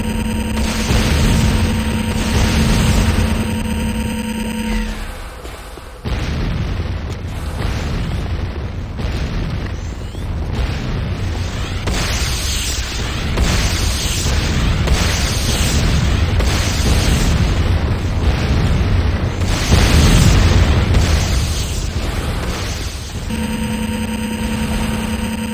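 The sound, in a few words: structures exploding in the video game Command & Conquer Renegade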